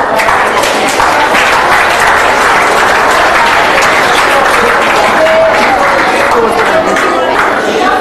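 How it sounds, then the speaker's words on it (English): A loud, dense roar of applause fills a hall as an audience cheers a spelling bee and presentation competition winner, continuous clapping mixed with crowd noise and chatter throughout. "Let's have a huge round of applause for her."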